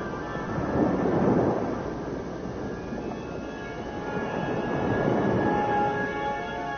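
Sci-fi craft setting down, a heavy rumbling roar that swells, eases slightly, then builds again, with steady low engine drone and whining tonal hum throughout, no talking.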